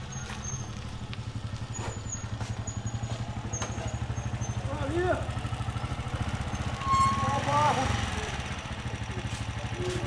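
A small motorcycle idles and putters nearby with a steady, rapid engine pulse while delivering clay to a doorstep, its revs rising briefly, with faint background sounds and no clear talk.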